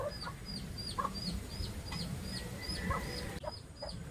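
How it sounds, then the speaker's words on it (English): Hens cluck repeatedly in short, scattered bursts over a low outdoor rumble, with some higher squawky calls mixed in. "There's Attila the hen. She keeps coming back."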